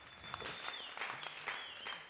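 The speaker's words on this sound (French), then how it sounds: "On applaudit ça." Quiet applause from a television studio audience, a soft, steady patter of many hands with a faint tone running behind it, fairly distant and low in level.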